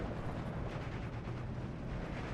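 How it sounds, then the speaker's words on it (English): Strafing run by attack aircraft in the WWII strategy game Steel Division 2, heard as a continuous low rumble of bursting gunfire and explosions, fairly quiet and distant, with no talking. "here comes the strafing runs"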